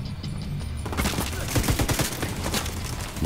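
Gunfire erupts from all sides in the video game The Division 2, a dense fusillade of rapid shots and bursts that starts after a quiet moment and keeps going.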